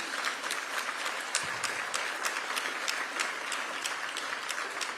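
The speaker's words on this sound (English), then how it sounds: "Give them a round of applause, please." Audience applause at a swearing-in ceremony for the Cincinnati mayor and city council, a continuous wash of clapping from a large room, moderately distant and even in level, with sharper individual claps standing out here and there.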